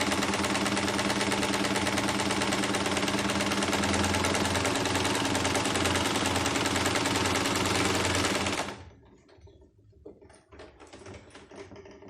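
A sewing machine edge-stitching a garment seam runs in a loud, fast, steady mechanical chatter for about eight seconds, then stops abruptly, leaving a few faint clicks and handling noises.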